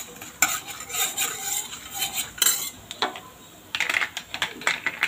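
A spoon stirs urad dal and chana dal frying in a pan as a tempering for red pumpkin masala, giving close, irregular scrapes and metallic clinks against the pan, with no talking.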